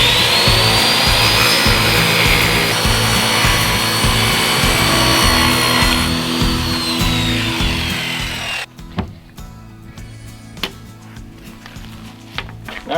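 A power saw cuts a wooden board for a homemade pontoon boat, running loud and steady for several seconds before cutting off, followed by a few sharp knocks and clatters.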